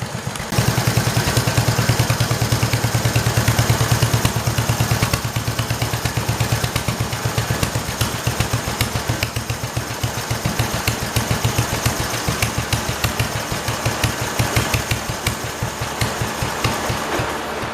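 A Kohler engine swapped into a 1968 112 tractor runs steadily with a loud, close, chugging mechanical clatter that stays even throughout, with no talking.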